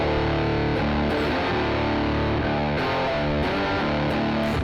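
Electric blues guitar in a retro style, played through heavy distortion, with chords and riffs ringing out continuously at steady volume and no voices.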